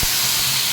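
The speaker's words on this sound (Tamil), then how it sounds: "எண்ணெய் சூடானதும் கடுகு, உளுந்து, கருவேப்பிலை, அடுத்து நம்ம அரைச்சி வச்ச இந்த பேஸ்ட்டை இதில் சேர்த்துக்கலாம்." Ground garlic paste hits hot sesame oil already tempered with mustard seeds, urad dal and curry leaves for a garlic chutney, producing a brief, loud, steady sizzling hiss up close.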